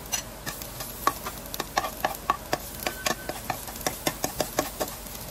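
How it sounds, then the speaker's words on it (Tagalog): Garlic and onion sauté in hot oil in a pan, a soft steady sizzle punctuated by regular scraping taps of a spatula stirring the mixture, close and without talk. "habang inigisa natin ang bawang at sibuyas guys, halu-hiluin lang natin yan"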